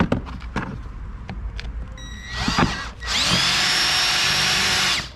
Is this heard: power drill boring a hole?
yes